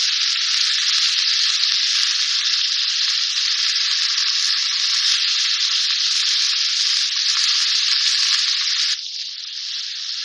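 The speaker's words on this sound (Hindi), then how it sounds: "इसको फ्राई करेंगे इतना कि इसका कलर वाइट हो जाए गार्लिक के साथ।" Chicken strips fry with garlic in a pan for macaroni, giving a steady, loud, broad sizzle that continues almost without a break, then drops slightly in level near the end.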